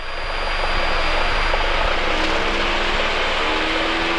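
A light propeller aircraft's engine roars steadily at full power with the brakes held, a loud continuous drone with a propeller whine, and no talk.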